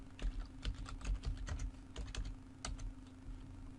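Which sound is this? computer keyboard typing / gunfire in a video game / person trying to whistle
computer keyboard typing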